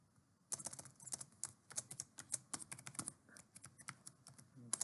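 Typing on a computer keyboard while entering a username and password during a Splunk installation: a close run of quick, uneven key clicks with short pauses, nothing else heard.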